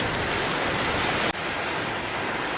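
Ocean surf rolling onto a shore at a fishing spot, a steady broadband wash of breaking waves heard up close, continuous and fairly loud, with a brief dip partway through.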